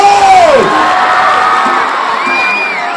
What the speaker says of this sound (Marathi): आता आपल्या कल्याणकरांच्या टाळ्यांचा जोश दाखवा